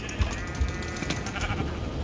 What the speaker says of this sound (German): Ich hab ein Schaf bei mir.